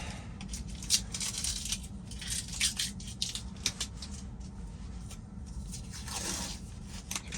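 Tape is pulled off a roll and torn in short crackling bursts, close and fairly quiet, for covering the cameras on a car with supervised self-driving.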